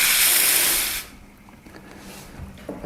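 A La Pavoni Europiccola espresso machine's steam wand, fitted with a single-hole tip, hisses loudly for about a second while steaming milk, then cuts off, leaving faint clinks and small handling sounds.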